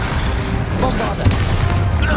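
A Bombarda spell blast in Hogwarts Legacy booms out with a loud, dense rumble and a sharp burst partway through, sitting amid ongoing game noise.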